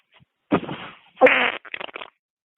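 Fart noise on a played voicemail message, one short wet burst after a brief spoken phrase, then a few choppy sputters trailing off.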